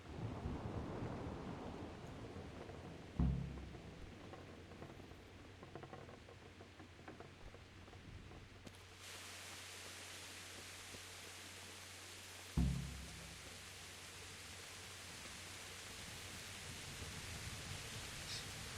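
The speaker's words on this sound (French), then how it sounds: "par contre la pluie elle est bien faite" Rain in the Kingdom Come Deliverance video game: a soft, steady shower hiss with two low thunder rumbles, the second louder, in a quiet game scene.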